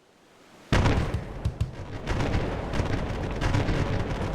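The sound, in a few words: ship cannon fire in video game Republic of Pirates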